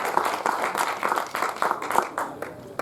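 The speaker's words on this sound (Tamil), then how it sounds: "அதுக்காக ஒரு தடவை கைதட்டு" An audience at a film launch ceremony claps together, a dense, steady patter of many hands filling a short burst of applause at moderate volume.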